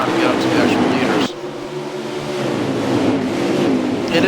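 A Mustang race car engine roars as it accelerates off turn 2 at Darlington, loud and sustained with a sudden drop in pitch partway through, under continuous race commentary.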